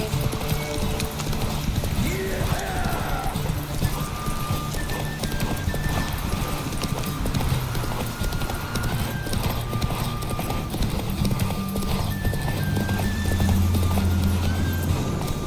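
Hooves clip-clop in a steady rhythm alongside occasional whinnies, over a busy, synthetic-sounding backdrop in The Witcher 3: Wild Hunt.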